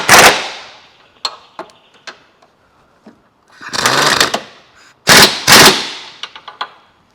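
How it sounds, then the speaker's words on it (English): A power tool zips bolts back into the body of an MG3 during a top engine mount replacement, sharp rattling bursts that come in loud short runs with quick clicks and pauses between them, close by. "I'm just going to zip these bolts back in first to the body."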